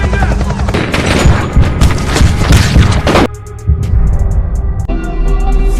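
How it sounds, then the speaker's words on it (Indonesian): Police open rapid gunfire in the action film Homefront: dense bursts of loud shots and booms for about three seconds, then sharper isolated shots against a quieter backdrop. "akhirnya para polisi di belakang Dalton menembaknya secara beruntun"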